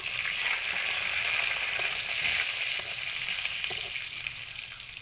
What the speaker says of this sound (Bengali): প্রথমে শুকনো লঙ্কা ফোড়ন দেওয়া হলো এবার জিরে ফোড়ন দেওয়া হচ্ছে এবার দেওয়া হচ্ছে তেজপাতা